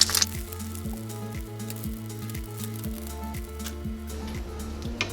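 An egg fries in a pot, giving a soft, steady sizzle under a rhythmic, repeating mechanical hum pattern that pulses evenly throughout, moderately quiet and close.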